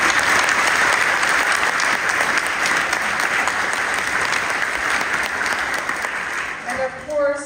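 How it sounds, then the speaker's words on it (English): An audience applauds at the 2024 Smithsonian Folklife Festival in Washington, D.C., with loud, sustained clapping that fades toward the end as a voice begins to speak. "Let's please give them all a great round of applause."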